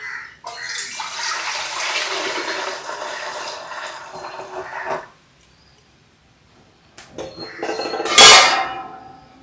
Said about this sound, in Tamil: தண்ணி ஊற்றுருவோம். ஊற்றுமா.